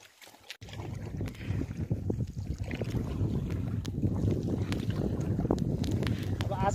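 A boat moves slowly across Rara Lake in wind, with a continuous low rumble of wind buffeting and water noise building after a brief quiet start, and muffled voices faintly underneath.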